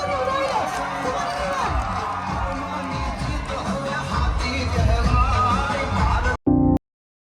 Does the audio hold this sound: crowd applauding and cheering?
yes